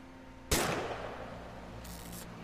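A single sharp gunshot in a video game cracks loudly and decays over a lingering tail, followed by a fainter burst of noise.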